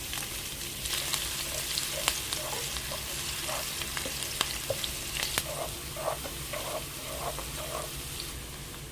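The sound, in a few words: garlic and onion sautéing in a pan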